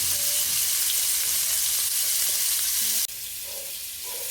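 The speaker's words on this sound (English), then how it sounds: "steaks being seared" Steaks searing in a pan for a surf-and-turf dinner. A loud, continuous close-up sizzle drops abruptly to a quieter hiss about three seconds in.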